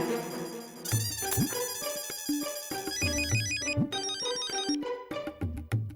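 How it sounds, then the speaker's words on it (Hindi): A melodic electronic phone ringtone plays loudly, a bright repeating tune of beeping notes with no voices. "अरे पोपट भाई का फोन"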